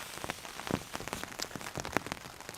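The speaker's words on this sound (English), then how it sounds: "The fire's got enough residual heat to deal with this rain, and I'm under this canopy, so not a lot of it's getting through" Rain patters on a tarp shelter in woodland, a dense irregular crackle of close drops with sharper individual hits, steady and fairly quiet with no voices.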